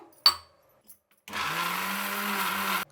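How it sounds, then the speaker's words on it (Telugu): A kitchen mixer grinder whirs steadily for about a second and a half, grinding soaked urad dal with water into a smooth paste. A sharp click comes first, then the motor starts, runs loud and even, and stops abruptly. "ఇప్పుడు మిక్సీ పెట్టేద్దాం"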